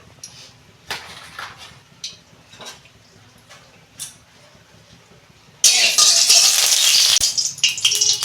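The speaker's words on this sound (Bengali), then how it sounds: "কেটে কড়াই তেল দিচ্ছি" Jackfruit seeds dropped into hot oil in a wok: after several seconds of soft, scattered clicks and knocks, a sudden loud, hissing sizzle bursts in and holds steady to the end.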